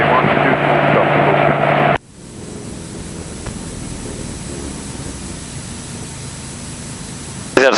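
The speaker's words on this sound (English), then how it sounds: "we can then look at bringing our RPM back to idle" Inside the cockpit of a Sling light aircraft, the engine runs loud for a couple of seconds, then drops abruptly to a steady, quieter idle rumble that continues to the end.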